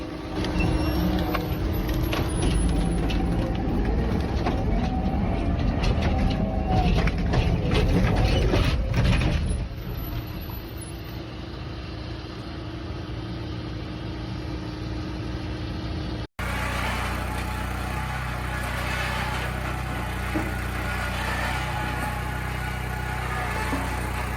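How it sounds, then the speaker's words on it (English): An SMF 13-16 wood splitter works through a log with a steady grinding, ratcheting mechanical drone and engine hum, loud and continuous, dropping slightly in intensity midway before resuming after a brief cut. "The SMF 13-16 wood splitter operates with relentless precision"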